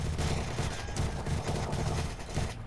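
Rapid video-game gunfire from Minecraft, a dense, continuous stream of shots at steady loudness with no pauses, filling the whole stretch without speech over it.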